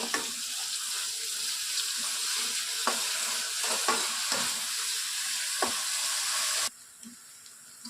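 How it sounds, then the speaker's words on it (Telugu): Onions deep-frying in a generous amount of hot oil for Hyderabadi chicken biryani give a loud, steady sizzle. Several utensil scrapes and stirs punctuate it, and the sound drops sharply near the end. "ఆనియన్స్ని డీప్ ఫ్రై చేసుకోవాలి కదా"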